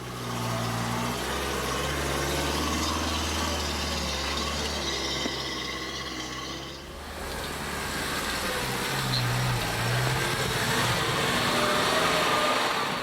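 A Suzuki Jimny 4x4 with aftermarket rear lockers works through an off-road obstacle at a club challenge, its mid-pitched engine droning steadily near the microphone, briefly easing off partway before pulling again.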